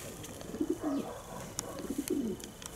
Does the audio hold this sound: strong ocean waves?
no